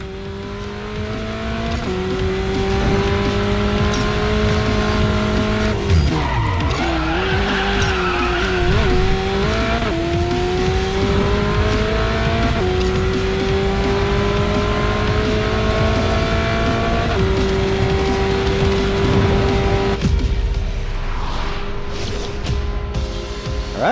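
An Alfa 4C in the Racing Master game laps the Yas Marina Mini circuit, its engine droning loudly and steadily through gear changes, with tire squeal through the corners and no talking.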